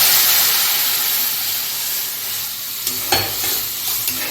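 Water is poured into a hot cooking pan while making a lemon curry with onion and green banana fritters, giving a loud, steady sizzle and hiss that slowly settles, with a few faint clinks near the end.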